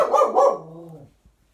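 A pet dog gives two sharp, close barks that trail off into a brief low whine, then quiet.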